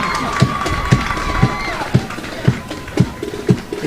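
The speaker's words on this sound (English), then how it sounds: "The crowd is showing their appreciation." Crowd cheering along a parade route during a precision drill sequence at a Barbados Independence Day parade, with broad shouts and cheers and regular sharp drill stamps or beats landing about every half second.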